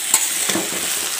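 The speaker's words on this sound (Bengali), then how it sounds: "একসাথে ভালো করে মিক্স করে কষিয়ে নেব কিছু সময় ধরে।" Potatoes and fried cauliflower being sautéed and stirred together give off a brief, loud, close hiss of frying, with a soft scrape or two from the spoon.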